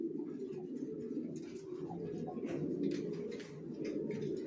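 Racer pigeons cooing steadily throughout, a dense low murmur of several birds close by with faint chirps above and a little background noise.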